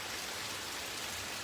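Rain falls outside in a dense, even hiss of countless drops, steady and unbroken for the whole moment, with no voices over it.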